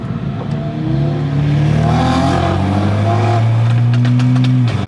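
Loud BMW and Mercedes performance car engines rev and drone steadily, pitch rising then holding, up close and continuous for several seconds.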